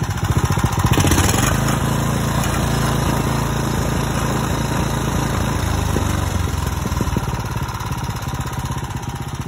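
An older Briggs and Stratton small engine, recently freed from seizure and given fresh oil, runs steadily at a close, loud idle with an even mechanical clatter and no voices.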